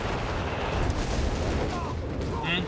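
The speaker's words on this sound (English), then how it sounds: "Artillery piece there." Artillery fire in the real-time strategy game Company of Heroes 3, a dense continuous rumble of booms and explosions with gunfire mixed in, with a commentator talking over it.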